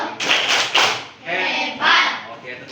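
Children's rhythmic clapping game called tepuk hebat, with bursts of hand claps in a patterned rhythm alongside chanted voices, fairly close and lively.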